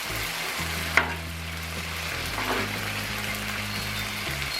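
Garlic noodles with shrimp and vegetables stir-fry in a hot pan, giving a continuous close sizzle, one sharp utensil knock near the start and a scraping toss midway, over soft background music.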